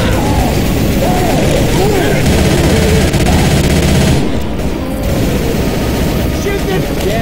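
Dense, loud gunfire from the zombie shooter Left 4 Dead 2, rapid overlapping shots and booms packed together for several seconds before easing slightly, with game voices speaking over the action.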